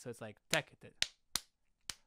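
A musician claps out an odd rhythmic grouping, four sharp hand claps spaced unevenly and close to the mic, the first coming after a few brief spoken words.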